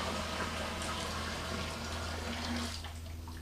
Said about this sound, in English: I'm going to dump the strike water into the mash tun.